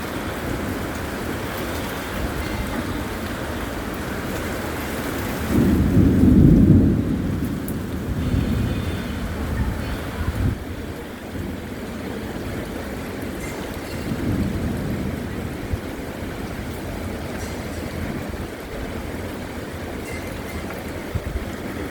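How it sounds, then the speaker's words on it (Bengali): Kalbaishakhi thunderstorm in Bangladesh with heavy rain hissing steadily throughout, a loud rumble of thunder swelling midway and fainter rolling thunder later, with no talk. "এইবার মানে ঝড়টা আর তীব্র হবে, কারণ এবার সরাসরি অনেক কালো হয়েছে।"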